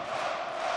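A partisan darts crowd at a German tournament roars in a brief, sustained burst of cheering and chanting.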